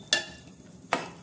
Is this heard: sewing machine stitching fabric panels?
no